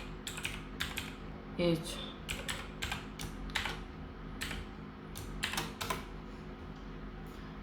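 Keys clatter on a computer keyboard while Python code is written, irregular bursts of clicks and taps at close range, with a brief spoken word partway through.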